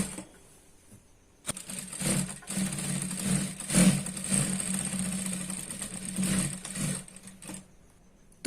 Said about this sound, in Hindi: इसी तरह से हम पूरे राउंड में इसे सिलाई लगाएंगे